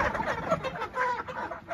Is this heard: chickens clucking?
yes